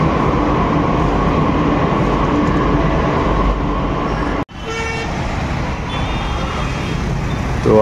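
A Delhi metro train rides toward Pragati Maidan station, with a loud, steady rumble of wheels and carriage noise that drops sharply midway, then continues slightly lighter.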